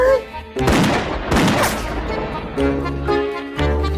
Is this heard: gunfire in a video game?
yes